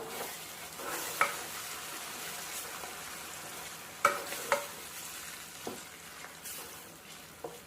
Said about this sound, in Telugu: మనం తాలింపులో వేసినాక ఈ పచ్చడంతా ఒకసారి కలుపుదాం